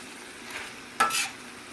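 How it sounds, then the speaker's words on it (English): Wilting spinach being tossed in a hot pan for a Tuscan-style salmon dish, with a soft steady sizzle and one sudden, brief burst of crackling as the leaves are flipped. "Continue to give that a toss. My spinach is beginning to wilt down a little bit."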